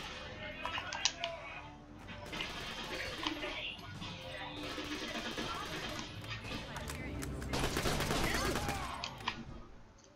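Video game gunfire in Borderlands: The Pre-Sequel, rapid bursts of shots and explosions building to a dense barrage, mixed with game effects and keyboard clatter, with a voice talking over it.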